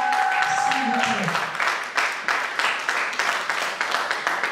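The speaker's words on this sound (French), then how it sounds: "Madame Larène Onobiono et Madame Annie Bello sous votre applaudissement, s'il vous plaît." The crowd at a conference panel applauds as panelists come forward, steady clapping under a voice that speaks over it for most of the stretch.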